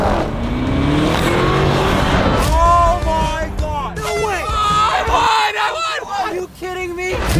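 A high-speed RC car whines and revs as it races against a kids' ride-on Lamborghini toy car, loud and close, with excited voices and chatter layered over the motor.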